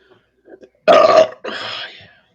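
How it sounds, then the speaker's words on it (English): Two loud, close belches follow in quick succession, the first harsh and throaty, the second longer and rougher, after a few faint sounds. "He did the belch noise."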